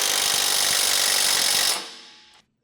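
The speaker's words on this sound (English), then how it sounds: "Now use a 21mm deep socket with an impact wrench and tighten the two mounting bolts on the adjustable" An impact wrench with a 21mm deep socket tightens a mounting bolt on an adjustable rear track bar of a 2007-2018 Jeep Wrangler JK, a loud steady rattling hammer for nearly two seconds that then fades and stops.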